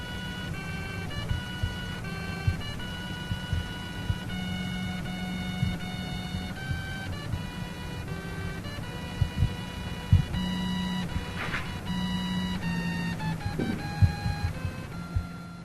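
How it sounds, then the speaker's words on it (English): A 3D printer's stepper motors play a melody as a sequence of whining electronic tones, note after note in a steady rhythm over a low mechanical hum, close and continuous. "This 3D printer also likes the melody."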